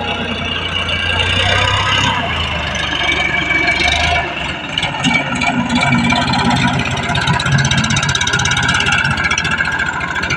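A Mahindra 585 tractor engine runs loud and close during a sand stunt, with a steady mid-to-low rumble that shifts slightly partway through. People can be heard talking over the engine noise.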